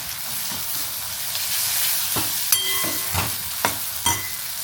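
Ground onion frying in tempering oil for a fresh cashew curry, a loud bubbling sizzle with repeated stirring scrapes and clinks of a spoon against the pan, and no speech.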